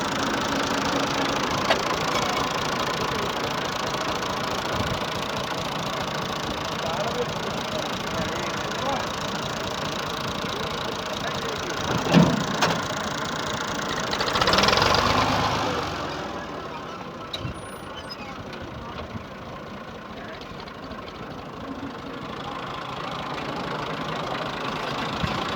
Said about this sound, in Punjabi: ਟਰੈਕਟਰ